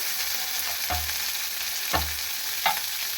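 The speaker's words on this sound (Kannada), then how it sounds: "ಇವಾಗ ಇದನ್ನು ಫ್ರೈ ಮಾಡ್ಕೊಳ್ಳೋಣ" Green chilies, cashews, almonds and thick-cut tomato pieces fry in a little oil, giving a steady close sizzle with a few sharp stirring scrapes of the spoon against the pan, and no talking.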